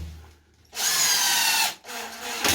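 A power drill driving a screw into an under-drilled hole for a bathroom accessory whirs loudly and steadily with a buzzing, rattling edge, cuts out briefly, then spins again, close up.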